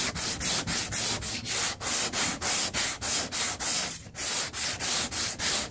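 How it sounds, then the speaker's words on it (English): Rhythmic back-and-forth scraping of 80 grit sandpaper on the driver's mid quarter panel of a 2003 Cadillac CTS, steady repeated strokes, close and loud, with no talking. "This 80 grit cuts really fast too, which is nice"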